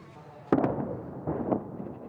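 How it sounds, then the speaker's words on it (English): Two sharp blasts of bombs and gunfire in the war in Ukraine ring out, each followed by a rumbling echo, distant and muffled. "The horrific sounds of war. Bombs. And bullets"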